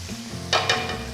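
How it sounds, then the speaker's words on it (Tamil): Onions and vegetables sizzle in a hot pan over high flame for Indo-Chinese stir-fry, with a couple of sharp stirring scrapes partway through over a low background hum. "ஹை ஃப்ளேமில் வச்சு நம்ம இதை ஸ்டர் ஃப்ரை பண்ணணும்"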